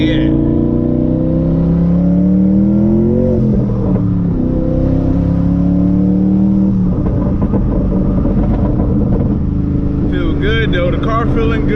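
A 1000HP Ford Mustang engine drones steadily while daily driving on the road, its harmonic pitch rising and shifting through gear changes, loud and close throughout with someone talking over it.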